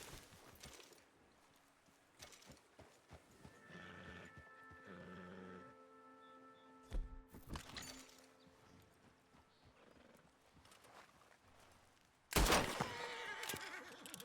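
A horse neighs in a video game alongside clip-clop hooves and game sounds, the whinny rising briefly, then a sharp loud burst near the end.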